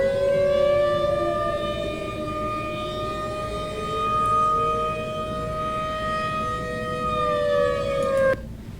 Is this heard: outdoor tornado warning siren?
yes